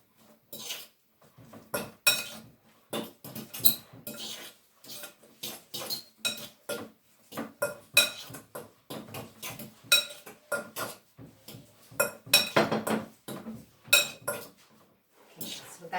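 Seasoned salmon fish cake mixture of potatoes, low sodium salt and black pepper stirred in a bowl, giving rapid repeated clinks and scrapes of utensil against dish in an irregular rhythm, close and fairly loud, with no talking.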